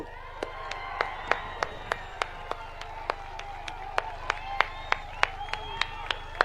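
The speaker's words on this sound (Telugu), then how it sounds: "ఒక్క నిమిషం నాతో పాటు చప్పట్లు కొట్టాలని నేను కోరుకుంటున్నాను" A crowd at a political rally in Tadipatri claps in a slow, steady unison rhythm, each beat landing sharply over a low, continuous murmur of the gathering.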